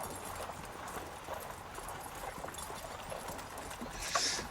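Horse hooves clip-clop steadily in a video game, a continuous rhythmic patter at moderate level under faint background ambience.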